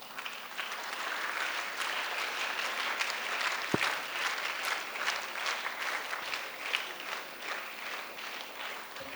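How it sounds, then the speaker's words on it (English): Steady audience applause at a school investiture ceremony as the chief guest, a colonel, is welcomed to the stage; dense, even clapping from a sizable crowd, fairly distant, lasting throughout. "please join us giving us a thunderous round of applause as we welcome Colonel Rupesh"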